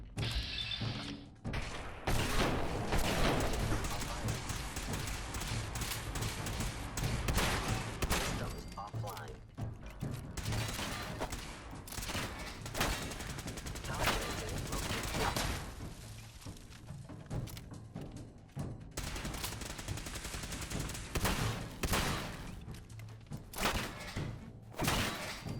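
Shotgun blasts and combat noise in the video game Fallout 4, repeated heavy bursts scattered across the stretch amid thuds and mechanical clatter, with a voice talking over parts of it.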